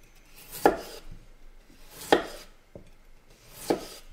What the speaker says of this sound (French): On coupe les pommes de terre en rondelles comme ceci.